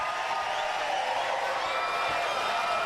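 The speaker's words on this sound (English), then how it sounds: "And this crowd is loving it." A wrestling crowd at a Crime Stoppers charity event cheers continuously in a large room, a steady, dense roar without breaks.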